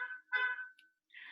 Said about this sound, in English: there is honking outside.